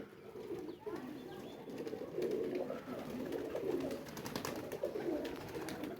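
Pigeons coo steadily in a loft, their soft low rolling calls overlapping continuously at close range with no talking.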